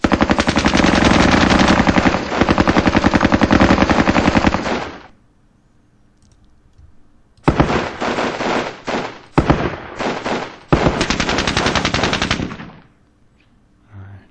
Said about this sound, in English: now go light machine gun